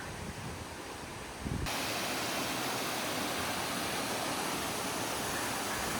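A mountain valley stream in Odaesan's Sogeumgang Valley rushes steadily as a broad, constant roar of water, loud and close. It swells abruptly after the first second and then stays even throughout.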